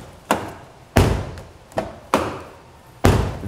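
A Jaguar car door is closed repeatedly, giving five sharp, hollow thumps at fairly even intervals, each loud and close with a quick decay.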